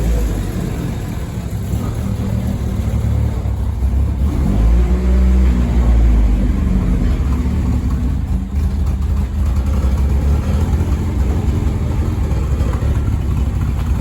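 A Honda CRX engine idling roughly on a PM6 ECU, a loud close low rumble with an uneven, slightly choppy pulse, holding steady with a brief swell partway through, no talk.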